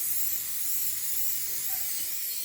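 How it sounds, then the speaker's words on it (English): Cooking oil sprayed from a spray can before making pizza crust, a steady, close, bright hiss that runs unbroken for a couple of seconds. "now we take this spraying stuff, Oil. and then we spray it all over."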